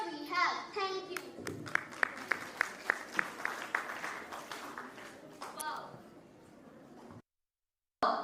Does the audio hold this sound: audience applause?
yes